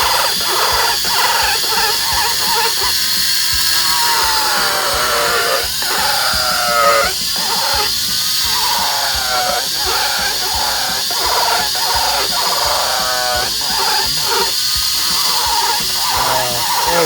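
A handheld power carving tool grinds and whines continuously against wood, rounding a piece down toward a centre line, with a steady high buzz, shifting pitch under load, and rhythmic strokes close to the listener.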